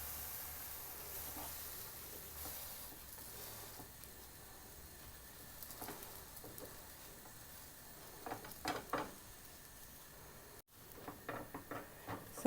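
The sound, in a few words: sandwich frying on a non-stick pan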